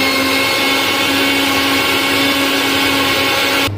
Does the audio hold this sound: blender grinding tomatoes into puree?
yes